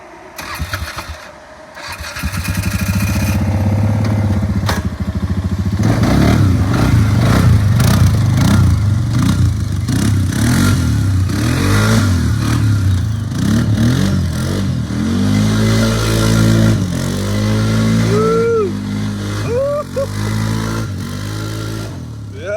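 A Polaris Sportsman 500 ATV that sat unused for six years cranks and fires up, then runs close by with a rough idle. The engine revs repeatedly, rising and falling in pitch, and a voice briefly cuts in near the end.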